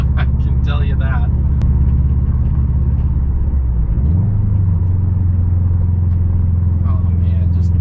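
A 2008 Subaru Forester XT with a rebuilt engine and five-speed manual drones loudly from inside the cabin, its low rumble shifting pitch midway through a downshift, with a voice talking over the start.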